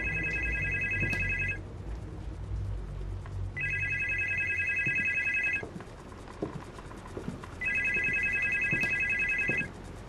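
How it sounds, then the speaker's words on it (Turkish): An old-fashioned telephone bell in the Supernormal horror game rings in three long bursts with pauses between them, loud and clear over a low ambient rumble, with no talking. "Nasıl telefon çalıyor ya?"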